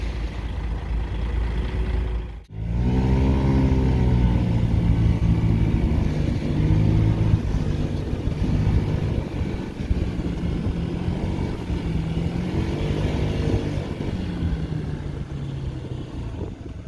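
Honda Tact AF75 fuel-injected scooter engine running while riding, a steady, close mid-pitched drone that briefly cuts out, then returns with a rising rev and holds a continuous hum with small speed changes.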